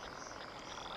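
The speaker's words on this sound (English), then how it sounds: "Like the swampy lake pond sounds, like the frogs and all that." Frogs croak in a swampy lake pond ambience from the video game Palia, a dense, steady chorus with insect-like buzzing and no voices.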